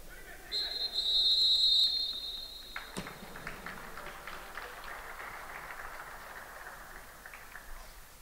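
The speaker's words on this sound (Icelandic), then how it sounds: "Nú fer Egill Arnar væntanlega að flauta til hálfleiks." A referee's whistle sounds one long, shrill blast to end the first half of an Icelandic cup football match between Kári and Elliði, followed by a diffuse outdoor hiss and faint crowd noise.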